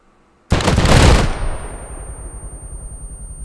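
A single sharp rifle volley rings out as the first round of a military memorial salute, one loud simultaneous crack from several guns after near silence, trailing into a long outdoor echo.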